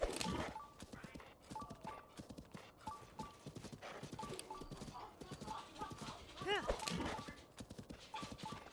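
Horse hooves clip-clop in an uneven, repeated rhythm in Zelda: Tears of the Kingdom, steady footfalls with a brief whinny partway through and a person talking over them.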